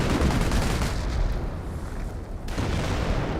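Dense, continuous bursts of machine gun fire and booming explosions from a Company of Heroes 1 battle, loud and crowded with no clear gaps.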